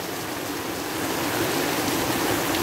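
Rain falls steadily in Rolândia, Paraná, a dense, even hiss that swells slightly louder toward the end, with no talking.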